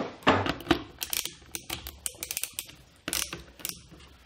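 Screw being tightened into a GRIPIT plasterboard fixing on a wall, giving quiet close clicks and ratcheting ticks in uneven bursts with short gaps, and no talking.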